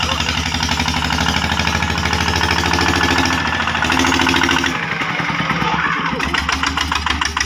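A car engine labouring as it climbs a steep road: a loud, steady roar with a fast rhythmic pulsing that holds throughout, close by.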